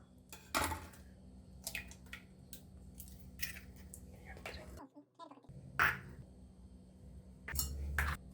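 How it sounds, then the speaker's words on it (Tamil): Eggs are cracked one after another into a bowl for a Tamil home-cooking recipe, with sharp taps and clinks against the rim spaced across the stretch, heard quietly under a steady background hum. "இப்போது ஒரு பாத்திரத்தை எடுத்துட்டு அதில் எடுத்து வச்சுருக்க எல்லா முட்டையும் வந்து உடச்சி ஊற்றிக்கலாம்."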